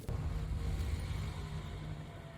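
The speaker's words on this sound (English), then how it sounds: "So that's the noise of the mothership" The mothership in Fortnite gives off a low, steady mechanical hum, a faint droning rumble with no talk over it.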